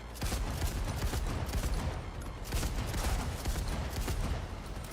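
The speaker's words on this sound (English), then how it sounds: "Shotgun seems to work." Shotgun fire in the video game Cyberpunk, set in Night City, comes as dense, fast volleys of heavy blasts. It is steady and loud through the whole stretch, with no talking.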